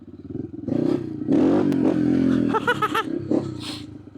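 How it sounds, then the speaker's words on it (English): A BBR big bore Yamaha TTR125 dirt bike on a test ride, its engine revving up hard in loud rising bursts with a rough, throaty exhaust note and some clatter, close by and without talk. "We're gonna go on a little test ride, and I'm gonna show you how she rips."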